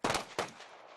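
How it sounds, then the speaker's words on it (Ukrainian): Two sharp rifle shots from a military honor volley at a memorial in a national park, fired in quick succession less than half a second apart, loud and close, each trailing off into a short outdoor echo. "дають над холодним яром військовий салют"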